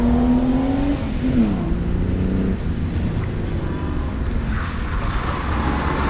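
A Vauxhall Opel rally car at the Lombard Rally, Weston Park, accelerates hard nearby, its engine note rising then shifting through gears with a loud, continuous drone.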